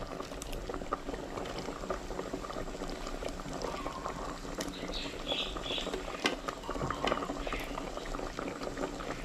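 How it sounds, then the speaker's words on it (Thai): Water bubbling at a steady rolling boil in a pot, a dense continuous gurgle and patter close by, with faint clinks and small splashes now and then. "น้ำเดือดได้ที่แล้วนะครับ"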